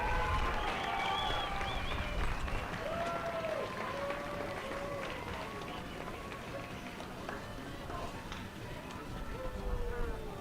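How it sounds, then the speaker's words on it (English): Crowd applause and scattered cheers for the 15 to 16 boys' class at a youth enduro race at Iron Springs Resort, Cedar City, Utah; steady and moderately distant, with voices calling out over it for about ten seconds. "Let's give these 15 to 16 boys a round of applause."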